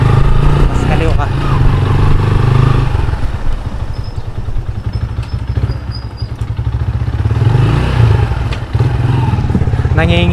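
A motorcycle fitted with an SC Project aftermarket exhaust rumbles loudly while being ridden, the engine note rising and falling with throttle changes and some clatter, with a rider talking over it.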